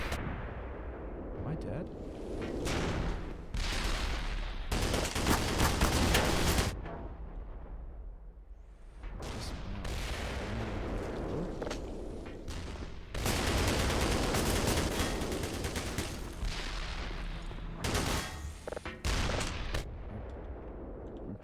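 TOW missile launch and gunfire in the game Black Mesa: heavy booming blasts and bursts of rapid shooting that come in waves over about twenty seconds, with someone speaking briefly between them.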